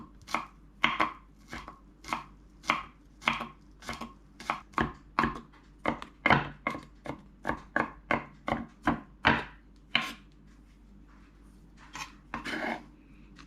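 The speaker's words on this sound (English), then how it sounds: "I just crush them like this, and the ginger too, just crushed, and all right, chop them up" Crushed garlic and ginger are chopped with a knife on a board, a quick run of about thirty close, crisp, evenly spaced strokes with brief pauses and no talking.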